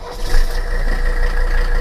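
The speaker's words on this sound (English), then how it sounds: "so you can get a sense of just how loud this car is when it's idling" A Toyota diesel car engine idles loudly up close after its glow plugs warm up, giving a continuous, rough, clattering drone that holds steady throughout.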